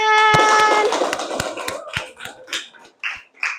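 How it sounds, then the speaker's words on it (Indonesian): A classroom of students applauding: a dense burst of clapping that thins into scattered, separate claps and then a few last isolated ones, close and fairly loud. "Terima kasih, tepuk tangan"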